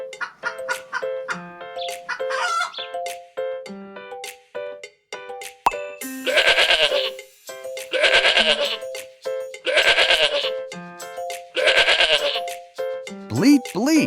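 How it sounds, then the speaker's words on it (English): A goat bleats four times in a row, loud and close, over bouncy children's music, each wavering call following a short pause. "Bleat, bleat, say hello to the goat."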